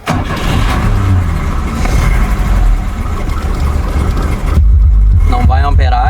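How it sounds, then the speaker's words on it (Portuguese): A Chevrolet Chevette engine cranks and catches, then runs with a loud, steady mid-pitched rumble; a car audio system thumps in the background and a voice talks over it. "Vamos ligar o carro."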